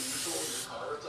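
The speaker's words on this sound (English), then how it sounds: "So now what I'm going to do is hose this down." Short, close hiss of spray cleaner washing down drum brake parts on a vehicle, a steady burst of about a second that fades slightly at the end.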